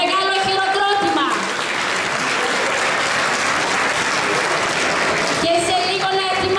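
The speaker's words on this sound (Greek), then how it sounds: "Ένα μεγάλο χειροκρότημα." A crowd at a Greek women's association dance event gives a big round of applause for a visiting folk dance troupe from Dropoli, loud and continuous in the middle, with music and voices at the start and end.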